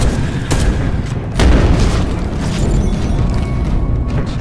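Missile launcher fire in the sci-fi shooter Space Hulk: Deathwing, with a loud booming blast near the start and a heavier thump around the middle over constant dense rumbling combat noise.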